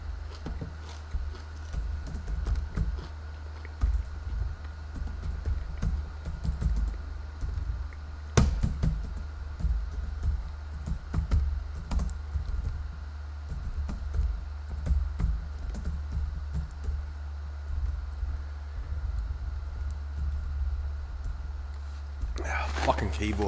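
Typing on a computer keyboard during a live stream, with steady, fairly quiet key clicks running throughout over a constant low hum, a few louder taps, and occasional faint speech.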